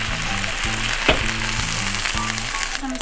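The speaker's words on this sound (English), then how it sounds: "now I'm gonna add some vegetable broth" Vegetable broth hits a hot pan of cumin potatoes and sizzles loudly and steadily, a constant frying hiss with a sharp clink partway through and a low droning hum underneath.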